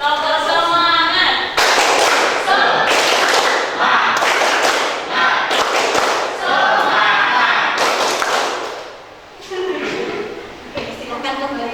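Schoolchildren in a classroom performing a rhythmic spirit clap, loud patterned bursts of group clapping and thumping in repeated phrases with brief gaps, close and energetic, voices chanting along.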